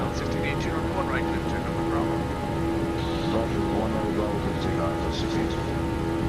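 Simulated Boeing 737-900 engine noise in X-Plane 11, a steady jet drone with a sustained tonal whine, heard under radio-style talk from air traffic control and pilot.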